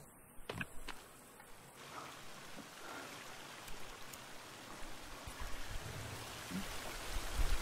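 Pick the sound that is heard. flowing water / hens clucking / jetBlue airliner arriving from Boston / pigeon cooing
flowing water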